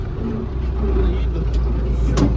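A tractor-drawn crop sprayer's engine rumbles loud and close in a field of sunflowers, a dense, steady low drone with no clear drop in pitch.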